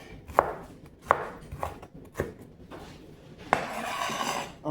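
A knife chops onions on a cutting board in a home kitchen, with five or six sharp, separate strikes spaced about a second apart. The chopping is close and clear, and nobody talks.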